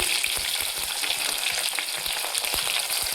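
Green chillies frying in hot oil with small onions and mustard seeds, for a crab curry, give a loud, continuous sizzle with scattered pops and light stirring scrapes, no voices.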